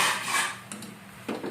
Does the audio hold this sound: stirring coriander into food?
yes